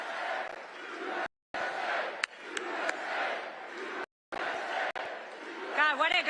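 Loud crowd at a campaign rally in Johnstown, Pennsylvania, roaring and chanting in bursts that break off into brief silences, with a voice shouting over the noise.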